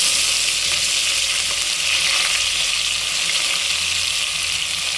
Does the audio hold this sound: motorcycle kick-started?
no